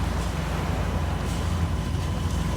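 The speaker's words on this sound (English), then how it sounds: "That is why the motor's on." A sailboat's motor runs steadily while cruising downwind in light air on Japan's Inland Sea, a continuous low droning hum with broadband wash, even in level throughout with no voices.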